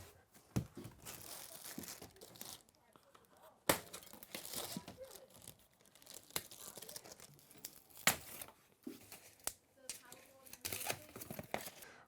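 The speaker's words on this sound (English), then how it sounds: "we want to remove the protective packaging using a pair of snips" Protective packaging is cut away from a 2022 Surface 604 Colt e-bike with snips, producing scattered crinkling, tearing plastic and sharp snipping crunches at close range, with a quiet stretch partway through.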